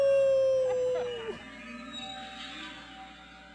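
A person imitates a werewolf howl with a single drawn-out vocal wail that holds steady, then slides down and fades into a quieter tail.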